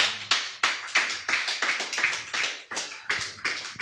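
A church congregation applauds in a burst of quick, uneven hand claps that keep up a brisk rhythm for a few seconds, with no cheering voices standing out.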